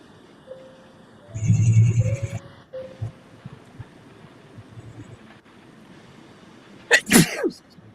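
A single sharp sneeze close by in a quiet indoor room, a short burst at the start, followed by a brief voiced reply a few seconds later.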